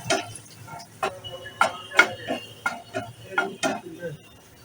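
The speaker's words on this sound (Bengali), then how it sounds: "মানে রসুনটা ফ্রাই করা।" Garlic fries in a pan over a medium-to-low flame while a utensil stirs it, making a string of sharp clicks and scrapes against the pan over a faint sizzle.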